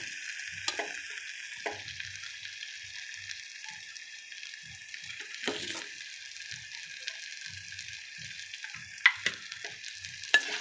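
Garlic, onion and coconut sizzle softly in oil, a steady high frying crackle with occasional low stirring knocks and scrapes from a spoon against the pan.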